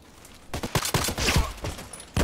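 Gunshots from an EBR rifle in a video game match on the Old Sawmill map, a rapid string of sharp shots over about a second and a half, followed by a single louder shot at the end.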